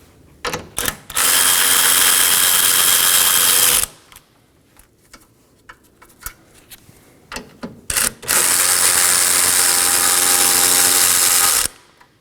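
Power tool driving out 10mm bolts from the crossbar of a 2018-2024 Chevrolet Equinox 1.5L, two long loud whirring runs separated by clicks and handling noises, close up.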